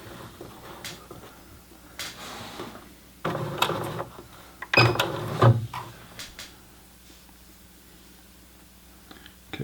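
A Singer Heavy Duty 6800C sewing machine with a size 11 stretch needle and thin thread stitches knit fabric in a few short mechanical bursts, close and moderately loud, separated by quiet pauses and small clicks.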